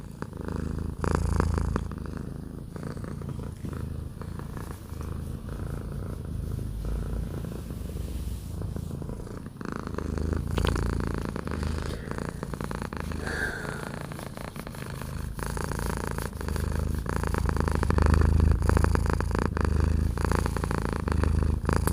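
A cat purrs continuously and up close, a low rhythmic rumble that pulses with each breath and grows slightly louder toward the end.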